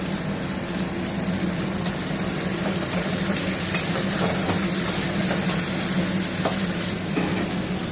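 Chopped raw onions fry with garlic in a pan for chilli chicken, making a dense, continuous sizzle with stirring scrapes and clicks throughout and no talk.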